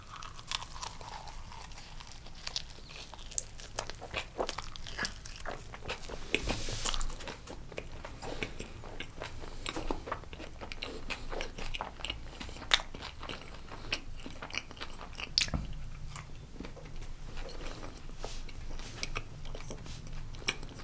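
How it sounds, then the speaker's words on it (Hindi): Crunchy Indian street food such as cheese shaphale and momos with chutney being bitten and chewed close to the mic, a series of crisp crunches and crackles over about twenty seconds with no talking. "let's go in for a nice big bite"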